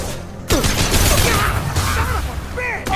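Gunfire and combat in the Mass Effect 2 video game, a loud burst of rapid shots breaking in after a brief quiet, with whizzing, chirping effects mixed through the firefight.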